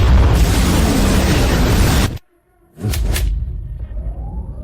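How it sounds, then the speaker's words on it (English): A loud, sustained roaring blast from a warship's main cannon at maximum power that cuts off abruptly, followed by a brief silence and then a second rumbling burst with a sharp crack. "Main cannon, maximum power."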